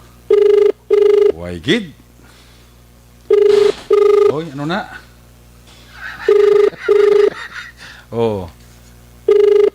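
A cellphone rings repeatedly during a radio call-in broadcast, with pairs of loud, even electronic trills recurring every few seconds between bursts of talk from people on air.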